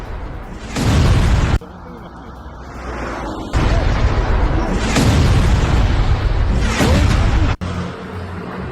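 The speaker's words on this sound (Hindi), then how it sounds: "देखिए कैसे हवा में ही इन मिसाइलों को इंटरसेप्ट किया गया है।" Intercepted Iranian ballistic missiles burst in the air over Israel, giving loud, sustained booming rumbles in several long heavy stretches with abrupt cuts between them.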